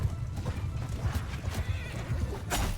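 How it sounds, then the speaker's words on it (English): A horse whinnies in the medieval battle game Mount & Blade II: Bannerlord, close and fairly loud, with hoof clatter and battle noise around it. "Ooh, horsey."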